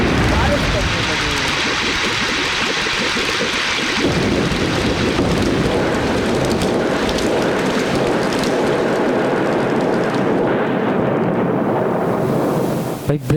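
Heavy rain falls with a rolling thunderstorm as a dense, continuous roar of downpour. A voice speaks over the rain during the first few seconds before the steady rush carries on alone.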